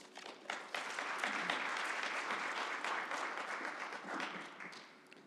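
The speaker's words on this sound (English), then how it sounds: "Please give them a nice warm welcome of applause" Audience applause welcoming a presenter at an academic symposium, a dense steady wash of many hands clapping that swells quickly and tapers off near the end.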